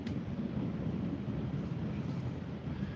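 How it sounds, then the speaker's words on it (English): Low, rumbling roll of distant thunder in Menomonie, Wisconsin, sustained and steady, with a faint wind-like hiss over it. "I hear some thunder too."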